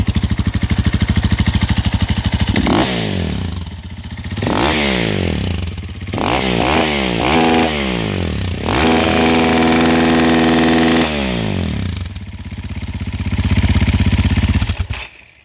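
A dirt bike engine fitted with a brand-new FMF exhaust revs repeatedly up close, sharp rising and falling bursts of exhaust noise between rough idling, then a longer sustained rev.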